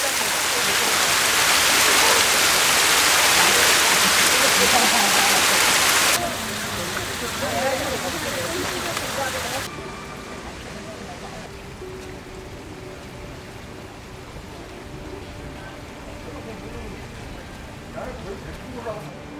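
Steady rushing water pours loudly at first, then eases to a softer, continuous flow like a small cascade, with no voices.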